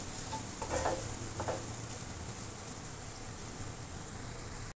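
Vegetables with salt and black pepper stir-fry in a pan for semolina noodles, a steady close sizzle with a couple of brief scraping stirs early on, no voices.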